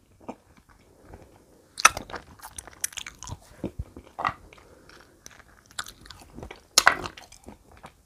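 Close-up chewing of golden sweet tamarind (makham mu) dipped in chili salt, a Phetchabun-grown Si Thong variety, with soft flesh; moist bites and crunchy chomps come in irregular bursts, loudest near the start and middle, with no talking.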